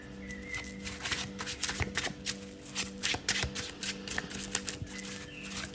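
A deck of tarot cards is shuffled close by in an otherwise quiet room, making a soft, uneven patter of card slaps and riffles that runs for several seconds.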